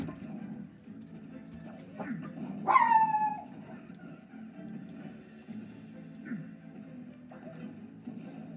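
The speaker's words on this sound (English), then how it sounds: "So I brought my dog here." Dog in an old video game, a single sharp bark or yelp standing out over a quiet low background hum, with a few fainter scattered sounds around it.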